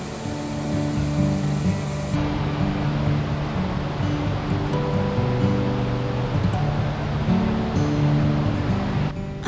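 Lower Gushing Falls in the Brecon Beacons, a two-tiered waterfall over bedrock, roars in a loud, unbroken rush of white-noise water heard close up, with no voices.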